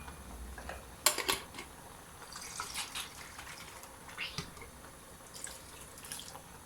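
Water sloshing and splashing in a glass jar, then poured into a batch of green beans being prepared for winter storage, with clinks of glass and a few small splashes and drips, close and fairly quiet.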